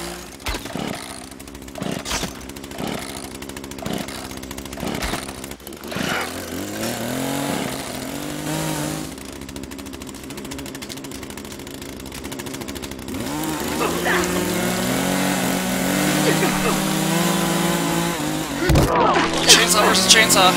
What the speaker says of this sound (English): Chainsaw versus chainsaw!